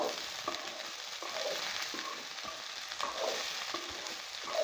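Okra fries in a pan with a steady close sizzle, while a spoon stirs and scrapes through it in periodic soft strokes, with no talk.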